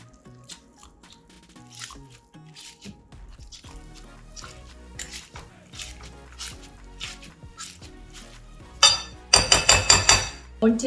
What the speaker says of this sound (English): Mash the tofu with a masher.